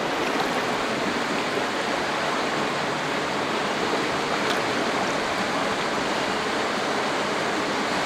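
White water rapids on the Kalamazoo River between Albion and Marshall, Michigan, give off a steady, dense rushing roar of churning water, loud and unbroken throughout with no voices.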